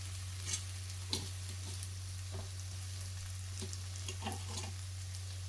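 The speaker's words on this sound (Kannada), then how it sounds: "ಸ್ವಲ್ಪ ಲೋ ಫ್ಲೇಮಲ್ಲಿ ಬಾಡಿಸ್ಕೊಳ್ಳಿ" Grated coconut sautéing in a pan over a low flame, a soft steady sizzle with occasional light scrapes and taps of a spatula over a constant low hum.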